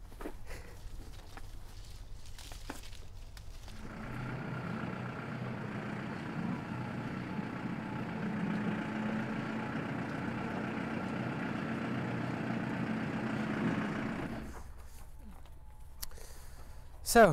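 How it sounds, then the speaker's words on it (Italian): A tractor rumbles steadily through an apple orchard for about ten seconds, a moderately loud, even engine drone that starts and stops abruptly, with faint talk around it. "io passerò di qui con il trattore"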